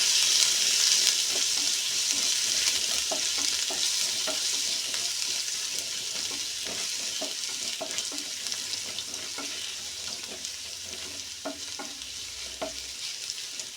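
Ginger and garlic sautéing in a pan, a steady bright sizzle running throughout with soft scraping and stirring clicks from a utensil, close and continuous, no voices.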